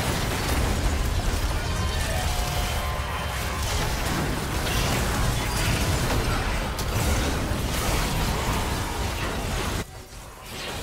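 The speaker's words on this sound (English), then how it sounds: "Blue team's turret has been destroyed." Turret destruction in a League of Legends top-lane match, Rumble versus Zac, heard as a dense, loud burst of explosive game effects and mechanical crunching that runs almost continuously, then drops off abruptly near the end.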